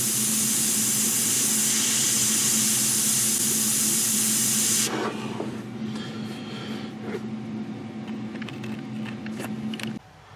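An airbrush sprays paint onto a 1/32 Eduard BF-108 model kit in a loud, close steady hiss for about five seconds, then a quieter hum with faint clicks and handling.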